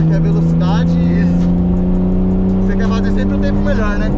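A Porsche 911 on a race track accelerates hard, its engine holding a loud, steady high-revving drone close by, with a person talking over it.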